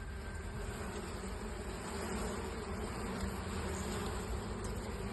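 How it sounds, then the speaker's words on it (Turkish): Buckfast honeybees buzz in a dense, continuous drone around an opened hive, steady and close with no voices. "Bugün sizlere Belfax ırkı arıların son durumlarını göstermek için açıyoruz kovanlarımızı."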